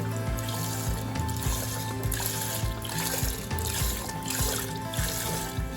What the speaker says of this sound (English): After you get the chicken stock poured in, you want to get it mixed.